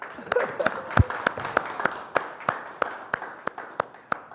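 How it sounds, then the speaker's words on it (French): An audience claps in a steady, sparse rhythm of distinct individual claps, like a small group of students clapping along, with faint voices underneath. "On applaudit pour Presse"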